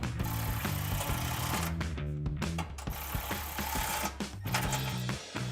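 A 10mm socket wrench tightens exhaust nuts on a Jeep Gladiator JT while fitting a Magnaflow Rock Crawler single exhaust, giving a fast, rapid ratcheting clatter in close bursts with short pauses and no talking.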